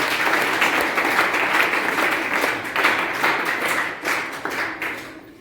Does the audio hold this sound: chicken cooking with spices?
no